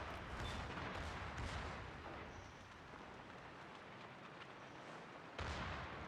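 Main guns of a battleship in a naval video game fire as heavy, rumbling booms blending into a continuous roar of distant gunfire and explosions, with another loud blast near the end.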